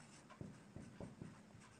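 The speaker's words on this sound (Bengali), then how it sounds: "এখন লিখব" Pen strokes scratching out equations on paper during a maths lesson on linear equations, a run of short, soft, rhythmic scrapes close to the mic in a quiet room.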